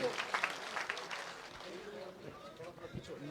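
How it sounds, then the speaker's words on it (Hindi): A rural political gathering applauds two youth leaders, a fairly faint, diffuse patter of crowd clapping that persists throughout without a clear peak. "जोरदार ताली बजाकर इन दोनों युवाओं का भी"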